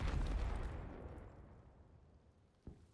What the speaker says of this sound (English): Someone just tried to nade me.